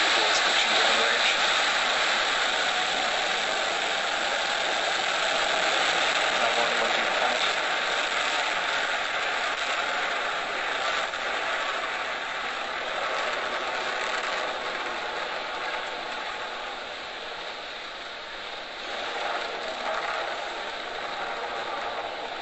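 A Falcon 9 rocket carrying the Quetzal-1 satellite lifts off with a broad, continuous roaring rumble that holds steady throughout, sounding distant and noisy, with no voices heard over it.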